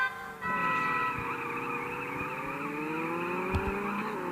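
A car accelerates steadily in the racing game CSR Classics, its engine note climbing continuously with rising harmonics, loud and close from start to finish.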